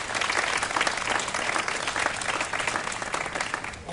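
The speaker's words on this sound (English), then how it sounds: "Give him a big round of applause." An audience claps warmly at an outdoor mayoral press conference in Director Park, Portland, with steady, dense applause that holds at full strength throughout.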